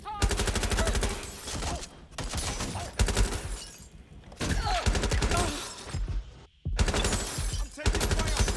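Automatic gunfire in Watch Dogs Legion: loud, rapid bursts of shots rattle off close by in several long volleys separated by brief pauses.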